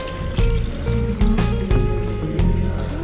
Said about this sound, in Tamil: நான் இன்னைக்கு இந்த பவுல் ஃபுல்லாக தண்ணி ஊற்றிக்கிறேன்.